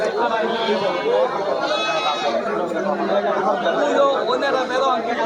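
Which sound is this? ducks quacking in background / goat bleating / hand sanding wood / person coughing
goat bleating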